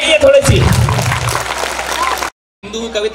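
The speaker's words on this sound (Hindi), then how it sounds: "स्टूडेंट्स के लिए आप जोरदार ताली बजाएंगे" An audience at an academy event with a national poet as guest claps, a dense burst of applause under a speaker's amplified voice, then a brief silence before talking resumes.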